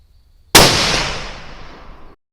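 .308 rifle fired on a 100-yard range: one sharp, loud close shot that cracks suddenly and then rings out in a long decaying tail for over a second and a half, with no talk.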